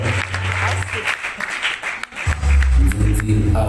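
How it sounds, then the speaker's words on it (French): Audience applause at an awards ceremony fills the clip, a broad steady wash of clapping that dips briefly midway, then swells again with a low rumble underneath. "Sous vos applaudissements, il faut faire bien fort pour Sylla-Bissau."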